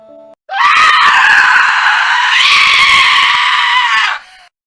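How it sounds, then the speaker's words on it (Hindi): A woman in a cartoon lets out one long, loud, piercing scream that holds for nearly four seconds before cutting off, heard alone. "अचानक उसके पीछे उसकी एक औरत की चीखने की आवाज आता है।"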